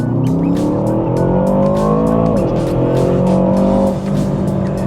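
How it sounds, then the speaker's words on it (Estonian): A car with open exhaust valves accelerates hard in Sport Plus mode, its loud engine note climbing steadily through the gears with brief shift breaks, close and continuous without talk. "paneme siit auto kohe ka Sport Plussi peale, et saaks natukene kiirendust katsetada"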